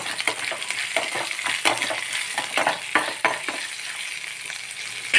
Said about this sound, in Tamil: பச்சை மிளகா நல்லா வதக்கி கொடுத்துடலாம்